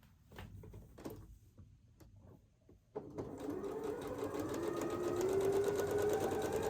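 A sewing machine stitches a quilt block straight along a drawn center line, its motor starting after some faint handling noises and then running steadily and close, the whirring pitch rising slightly as it speeds up.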